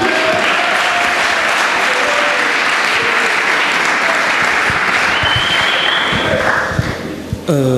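Church congregation clapping and cheering in acclaim during a sermon on marriage, divorce and remarriage, a dense continuous round of applause that stays steady, then thins near the end as a voice rises over it.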